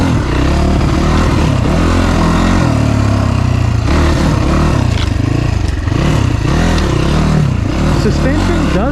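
A 2018 SSR 250S motorcycle on a test ride, its single-cylinder engine loud and close, rising and falling through revs with rattling chassis clatter and wind buffeting throughout.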